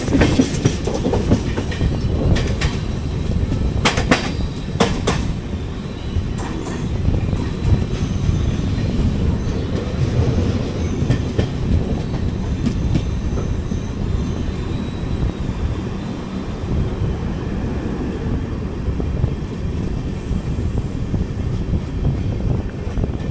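The 12201 Garib Rath Express from Mumbai LTT runs on the Konkan Railway near Mangalore, a loud continuous rolling rumble with clickety-clack of wheels over rail joints, steady and close, no voices.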